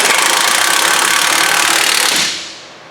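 An impact wrench tightening wheel hub bolts on a 2005-2011 Dodge Dakota, one loud, close, continuous rattling burst lasting about two seconds before cutting off.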